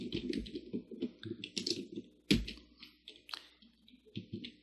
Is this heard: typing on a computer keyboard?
yes